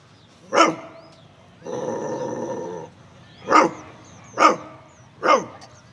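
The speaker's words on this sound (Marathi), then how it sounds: "दुसरं एक गावठी कुत्रं मी पाहिलं तर काय माहिती उगाच भुकत होतं" A village stray dog barks four times, sharp and fairly close, with a steady stretch of other noise between the first and second barks.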